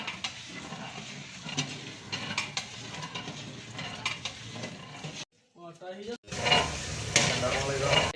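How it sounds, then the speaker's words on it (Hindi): Rice flour mixed into milk being poured and stirred in a pot for firni, a steady wet scraping swirl with clinks, a short pause, then louder stirring resumes. "जो हमने दूध में चावलों का आटा मिक्स किया था,"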